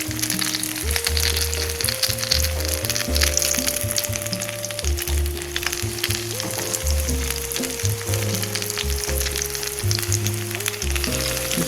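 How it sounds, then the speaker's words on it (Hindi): Fish kebab sticks, coated in flour and egg, fry in hot oil with a steady, dense sizzle that runs unbroken throughout, close and fairly loud, with no voices. "जिस तरह से मैंने वो फ्राई की थी उस तरह से इनको भी फ्राई करना है।"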